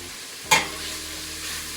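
Bacon sizzles in a pot on a stove at medium heat, a sudden sharp crackle followed by a steady, fairly loud frying hiss.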